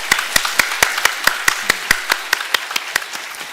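A church congregation at a Sunday service claps in a rhythm, about sixteen sharp, evenly spaced claps rising close and clear over a faint room background.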